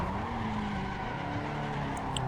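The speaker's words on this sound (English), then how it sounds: "while we're doing some racing in the background here" Race cars in the Assetto Corsa driving simulator, tires skidding and squealing over a continuous engine drone, a steady medium-loud wash of racing noise with no voices.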